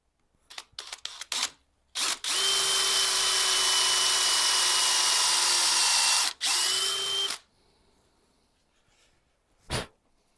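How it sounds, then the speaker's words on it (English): A power drill whirs steadily for about four seconds into a yew and resin woodturning blank, briefly dipping then resuming, with a few clicks and handling noises before and a short knock afterward. "mark out another hole, and then drill in again"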